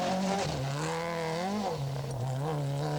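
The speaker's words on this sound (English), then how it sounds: "George Haddad, who had been pushing his Celica along in tremendous style, wastes no time in clearing this obstacle" A 1980s Toyota Celica rally car powers over an obstacle on the 1984 Dubai International Rally, its engine roaring loud and close with rising and falling revs as it climbs and clears the obstacle.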